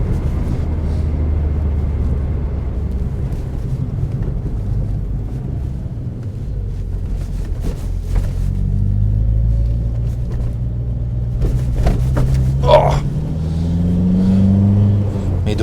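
A Peugeot 205 GTI on the road, its engine giving a steady low interior rumble that rises and dips as it drives and shifts gears, with a few faint clicks and knocks.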